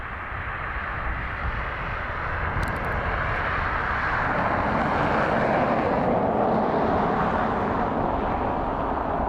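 An Aer Lingus airliner arriving from Malaga at Dublin Airport roars steadily with broadband jet engine noise, growing slightly louder toward the middle and holding continuous to the end.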